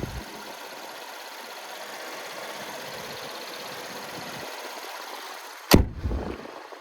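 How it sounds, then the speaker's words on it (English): A 2012 Buick LaCrosse's 3.6-litre naturally aspirated V6 idles with an even, smooth hum, then a sharp thump near the end, likely the hood closing, followed by a brief fading rumble. "there's that naturally aspirated V6"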